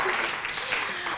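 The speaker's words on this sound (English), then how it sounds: "A round of applause for Lizzie." An audience at a children's picture-book award ceremony gives a short, dense round of applause that fills the whole moment, with a voice faintly heard beneath it.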